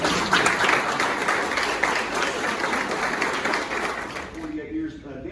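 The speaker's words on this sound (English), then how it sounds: "So again, give him a round of applause." A room applauds a retiring Arkansas State Police CDL examiner with a full, sustained round of clapping that fades out near the end, leaving brief quiet talk.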